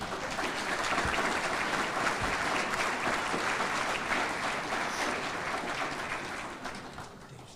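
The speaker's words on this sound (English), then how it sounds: "Give them a round of applause." An audience at a drug overdose prevention vigil gives a sustained round of applause, steady and full before tapering slightly near the end.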